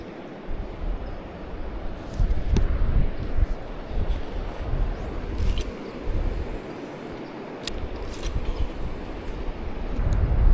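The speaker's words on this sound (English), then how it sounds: "It's cold and windy." Strong, steady wind buffets the microphone in gusty rumbling waves throughout, with a few faint high clicks over the roar.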